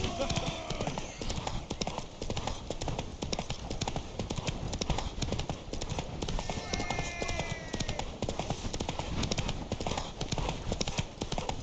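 Horse hooves clip-clop at a steady gallop throughout a race in The Witcher 3: Wild Hunt, loud and continuous, with voices shouting over the pounding hoofbeats.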